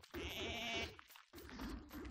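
A goat character in the video game Don't Starve Together bleats twice in quick succession, each call a nasal, wavering cry, close and clear, with a short gap between them.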